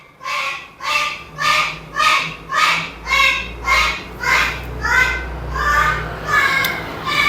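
A neighbor's pet bird calls in a steady run of about ten evenly spaced, loud, harsh cries, close by, with a low background hum beneath.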